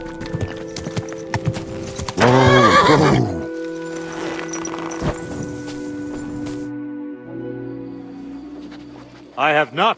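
Hooves clatter briefly, then a loud horse whinny rises and falls, followed by a quieter stretch with someone speaking calmly and a short second snort near the end, from the video game Kingdom Come: Deliverance II.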